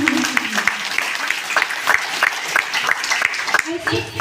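An audience at a DXN meeting claps, producing loud, uneven bursts of hand claps with a voice speaking over them.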